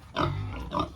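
Pigs grunting and squealing on a farm pen, two close, loud vocal bursts within a second with no talk over them.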